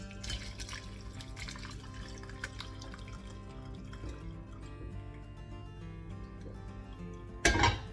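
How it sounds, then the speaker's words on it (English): Red wine beef cooking liquid is strained through a sieve, giving a quiet, steady trickle and drip of liquid that ends in a brief louder splash and clatter. "Then we'll just strain the cooking liquid through a sieve."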